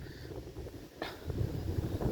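Strong wind blows by a river during float fishing on the Seversky Donets, a steady rough rumble and buffeting against the microphone with a brief gust swelling midway.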